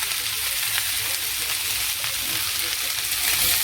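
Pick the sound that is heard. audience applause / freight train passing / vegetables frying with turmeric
vegetables frying with turmeric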